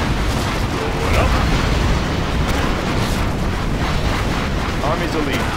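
Heavy rumbling explosions in Command & Conquer Generals Zero Hour, a sustained roaring blast with bursts and crackles throughout, loud and dense, with voices speaking over the din.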